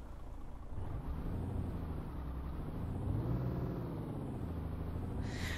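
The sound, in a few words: MAN TGX V8 truck engine running, from video game Euro Truck Simulator 2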